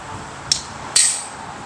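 Two sharp metallic hammer strikes land on a part of an old Mitsubishi fan being repaired, the second louder with a brief ringing tail, close by with no voices.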